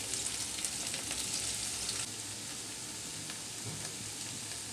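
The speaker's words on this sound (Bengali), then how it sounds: "গরুর মাংসটা দিয়ে দিচ্ছি" Beef pieces frying in a little oil in a frying pan give a steady, dense sizzle that runs continuously, slightly louder over the first two seconds and then settling a touch quieter.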